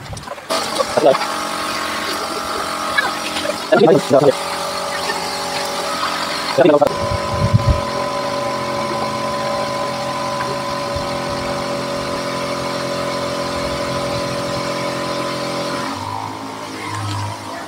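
The small engine of an SNI Top Agri 2-in-1 sprayer runs with a steady droning idle after several sputtering, clattering starts, and someone talks over it nearby.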